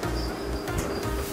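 Swarms of tiny pinhead crickets on a cricket farm chirp and buzz in a dense, close insect drone, with a steady high whine and faint rustling pulses beneath.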